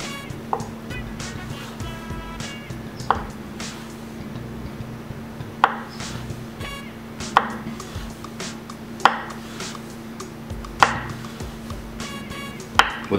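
A sharp knife slices half an avocado thinly on a board, giving evenly spaced crisp taps roughly every second or two over a steady low hum; no one speaks.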